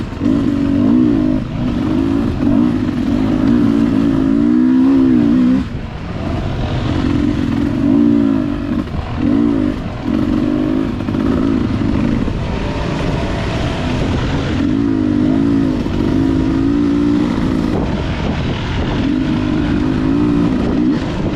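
A Beta 300RR two-stroke dirt bike rides a rocky trail, its engine buzzing loud and close, with the revs rising and falling repeatedly as the throttle opens and closes, and brief dips between bursts.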